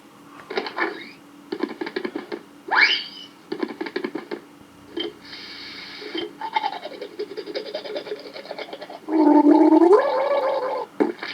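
Gurgling, bubbly sound effect played on a Packard Bell PB 1750CDT computer running Windows 95, a run of choppy warbling bursts with rising and falling tones, ending in a louder, sustained bubbling stretch.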